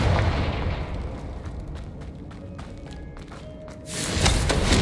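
A Confringo blasting spell explosion in the Hogwarts Legacy video game, heard as a loud sustained rumbling blast with scattered thuds, swelling to a brighter burst near the end, with no talking.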